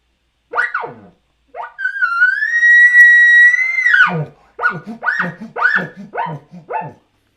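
An external reed call imitates a bull elk's roundup bugle. A sharp bark opens it, then a long, rising, whistling whine, then a run of rapid guttural chuckles, all loud and close with no talk.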